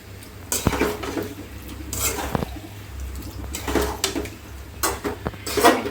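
Chicken and pasta being cooked in a pan, with utensils scraping and clinking against the metal in irregular bursts, stirring sounds and a low steady hum beneath, close and fairly clear.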